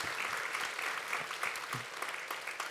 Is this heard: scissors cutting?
no